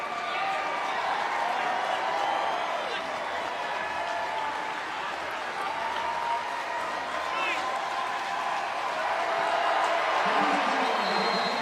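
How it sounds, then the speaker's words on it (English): Basketball arena crowd at an ACC championship game between Virginia and Notre Dame, a sustained roar of cheering and clapping filling the space, with a commentator talking over it. "Listen to this crowd."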